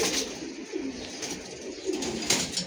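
Female Sil breeder pigeons coo softly and repeatedly at close range, with a low, throaty rhythm over faint background hiss.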